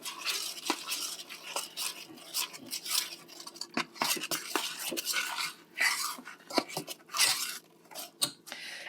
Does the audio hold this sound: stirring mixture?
yes